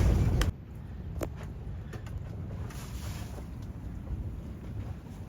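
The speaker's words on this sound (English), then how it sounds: "a nasty side-on swell, and hopefully you can make out how much we are moving" Wind gusts buffet a sailboat anchored in a bay, rolling in a side-on swell after a tropical wave. The wind roars steadily with soft water sloshing and a few creaks and knocks from the hull.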